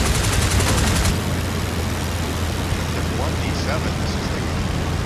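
Machine gun fire from World War I aircraft in a Flying Circus dogfight rattles in a dense rapid burst over a steady engine drone, then cuts off and leaves the droning engine.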